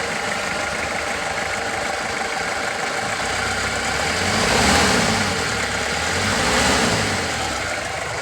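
A cheap used car with a manual gear stick and non-power steering idles nearby, a steady mid-pitched engine drone that swells briefly twice as if lightly revved.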